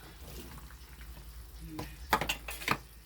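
Okra dropped into a pot of simmering coconut milk, a soft bubbling backdrop broken by a few splashy plops and clatters near the end, close and moderate in level, with no talking.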